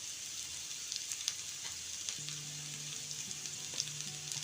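Potatoes and onions sizzle steadily in a pan on low heat, a soft continuous frying hiss close by with faint stirring, no talk.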